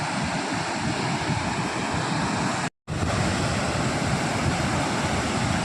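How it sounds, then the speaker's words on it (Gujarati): Water thunders down forcefully from the spillway at Amli dam, a dense, loud, roaring rush that continues without a break apart from one brief dropout near the middle. "એટલી જોરથી પાણી પડે છે કે પાણીનો જો આ ધુમાડા જેવો દેખાય છે"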